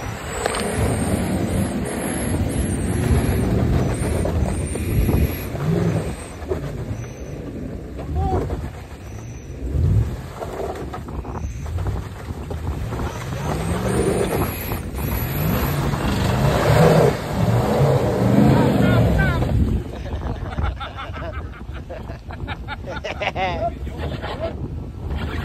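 A car spinning out on snowy ground by a frozen river in Alberta, Canada, its engine revving and surging amid heavy wind buffeting on the microphone, with people talking and calling out over it.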